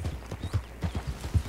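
Horses' hooves clip-clop in a steady trotting rhythm in the video game Red Dead Redemption 2, with several horses being led together, a continuous close patter with no speech.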